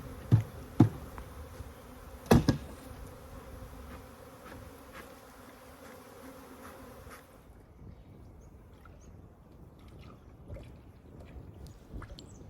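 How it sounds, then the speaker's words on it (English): A faint, continuous hum of honeybees buzzing in the background as they are shaken from a nuc box into a Layens hive, with a few sharp knocks and clunks early on, then quieter rustling. "I shake off the bees from the nuke box itself into the Layens hive and close the lid."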